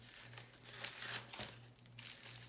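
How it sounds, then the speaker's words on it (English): A small cosmetic blush package is torn open by hand, its crinkly plastic rustling and crackling steadily and fairly quietly, close by, over a constant low electrical hum. "I'm gonna rip it open with you guys."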